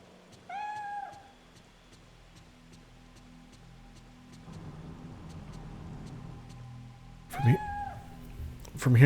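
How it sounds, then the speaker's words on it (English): A cat meows in the survival horror game Fatal Frame III, a few clear rising cries at the start and again near the end, over quiet ambient hum and a soft ticking clock. "Kitty, where'd you go?"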